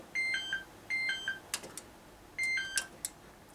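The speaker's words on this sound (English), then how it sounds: "There's this one, which is like a bebop tone." A TOA Melodix electronic alarm tone repeats a quick bouncing bebop pattern of bright beeps, two rapid cycles separated by a pause, loud and close.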